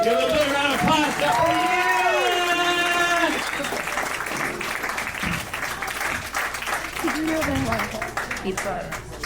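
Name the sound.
audience applause for comedian Brianna at comedy club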